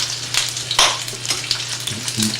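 Chicken breast sizzles skin side down in a hot pan, a steady crackling fry with a few sharper spits and pops, close and continuous with no talking.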